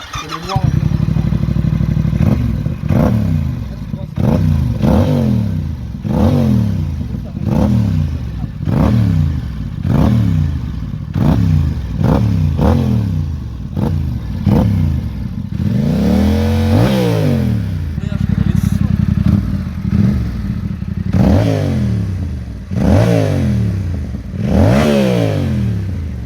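A new Yamaha R7 motorcycle fitted with an Ixil exhaust line revs repeatedly in sharp, loud bursts, each blip rising and dropping back to a rough idle, close by over about twenty-five seconds.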